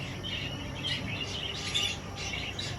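Budgerigars and cockatiels in a pet shop give off a steady wash of faint, overlapping chirps and twitters, with a few brighter calls standing out against continuous low room noise.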